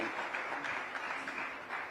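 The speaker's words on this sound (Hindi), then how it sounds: "एक बार फिर से चाहूंगी दिल से उसी भाव से जोरदार तालियां" A summit audience applauding on stage cue: steady, dense clapping from a crowd, fairly distant and soft, continuing evenly throughout.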